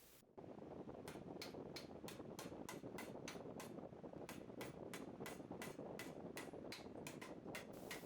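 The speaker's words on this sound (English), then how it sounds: "finished it up with a hammer" Steady, loud hammer blows on sheet metal clamped between two pieces of angle iron, roughly two strikes per second in an even rhythm over a constant droning background hum.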